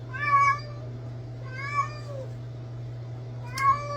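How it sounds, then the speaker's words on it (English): A female cat in heat crying out at night, giving three drawn-out yowling meows spaced about 1.5 seconds apart over a steady low electrical hum, fairly close. "listening to her crying out for a male cat to mate with"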